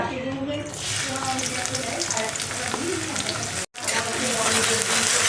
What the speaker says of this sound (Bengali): তেলটা গরম হয়ে এসেছে এবার পেঁয়াজ আর লঙ্কাটা দিয়ে দেব